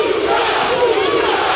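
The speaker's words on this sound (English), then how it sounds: "And the whole crowd is starting to chant" A boxing arena crowd at an IBF junior bantamweight title bout chants in unison, a dense, loud, sustained roar of many voices filling the hall with no break.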